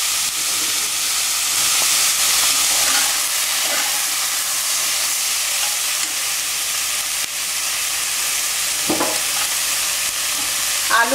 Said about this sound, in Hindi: सभी को 1-2 मिनट के लिए भूनने के लिए छोड़िए।